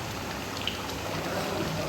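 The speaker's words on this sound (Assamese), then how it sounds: "বৰষুণো দি আছে" Rain falling: a brief, even hiss of drops pattering on a surface, moderately loud and steady throughout, with no voices.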